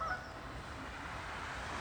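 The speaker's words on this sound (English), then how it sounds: "got some Canada geese and herons that are coming round at the moment." Canada geese honk faintly in a park at the Yorkshire Sculpture Park, the calls distant and brief at the start, then fading into a steady outdoor background of ambient noise.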